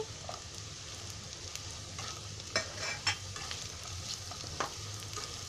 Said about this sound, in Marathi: त्याच्यामध्ये आहे ना हे फरसबी टाकते.